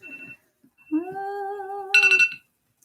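Kitchen-style timer alarm going off at the end of a 20-minute work session, a steady electronic tone followed by a brighter, louder burst of beeping that cuts off abruptly, heard alone in a quiet room.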